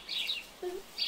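Sparrows chirping as a sound effect, a few short high tweets in quick succession, clear and near, with no talking.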